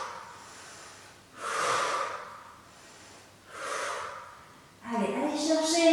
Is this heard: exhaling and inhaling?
yes